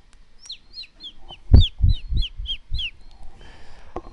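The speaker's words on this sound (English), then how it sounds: "we're gonna close with the birds, guys" Birds singing a run of about ten quick, repeated descending chirps, fairly close and clear, with a few low thumps underneath and a faint wash of background noise near the end.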